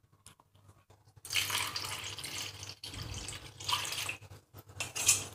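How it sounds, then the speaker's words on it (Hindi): Water is poured from a small bowl into curd in a large bowl, splashing and trickling in uneven bursts with short pauses and a faint low hum underneath. "फिर इसके साथ पानी मिला लेंगे।"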